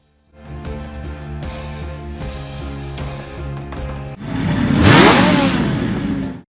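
A motorcycle revs from a film soundtrack, entering over a steady musical background and building into a loud, rising roar near the end.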